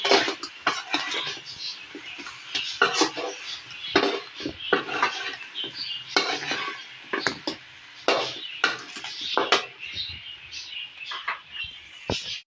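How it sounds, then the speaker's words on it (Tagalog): Banana turon is stirred in a pan, giving irregular metallic clinks and scrapes from the utensil against the pan. The sounds are close, bright and steady throughout. "ilagay na po natin ang banana turon. Haluin natin maigi."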